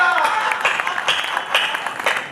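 Audience applause at a Hindi poetry recital, steady clapping from a crowd running under a voice throughout.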